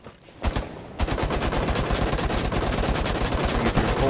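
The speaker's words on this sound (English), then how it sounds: "Dude, they're all shooting at me." Rapid automatic gunfire in the tactical shooter game Rainbow Six Siege, a dense, loud run of shots that starts after a brief opening burst and carries on without pause.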